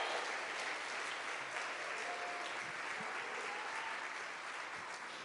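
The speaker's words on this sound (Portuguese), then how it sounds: "dá um aplauso bem forte ao Senhor" A church congregation applauds steadily at a worship service, a dense wash of many hands clapping that holds evenly from start to finish with no talk over it.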